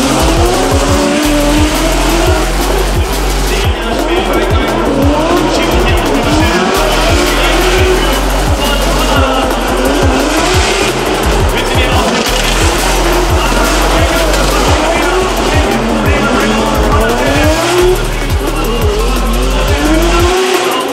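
Drift cars battling in the small final of a pro drift competition roar loudly with revving engines and continuous tire squeal, the howl rising and falling without a break for the whole stretch.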